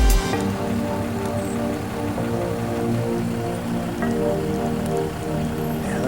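Heavy rain pours steadily at a Florida nature preserve, a close, dense patter on surfaces with a low rumble beneath and no talking.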